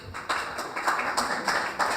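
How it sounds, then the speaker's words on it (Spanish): A studio audience on a Chilean interview program gives a short burst of applause, a few seconds of light, fairly quiet clapping. "Por favor, un aplauso para María Olivia Monquer."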